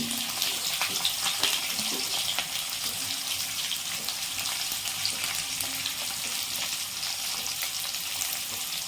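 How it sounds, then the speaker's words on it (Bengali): Sliced onions fry on a high flame in a pan for Bengali-style mutton kosha, giving a loud, continuous close-up sizzle with no talking. "আর এতক্ষণে আমি হাই ফ্লেমের মধ্যেই রান্নাটা করব, প্রথমের দিকে পেঁয়াজগুলোকে ভাজার জন্য"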